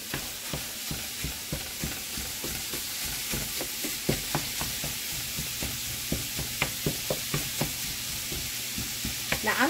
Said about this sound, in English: we're going to also add in a chopped onion and get this to browning